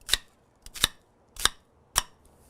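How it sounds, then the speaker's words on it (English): Knife chopping vegetables such as onion and celery into rough pieces on a cutting board: four sharp, separate cuts spaced about half a second apart, close and clear. "So, we'll cut these guys up."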